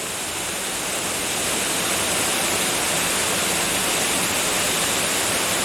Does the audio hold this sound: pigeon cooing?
no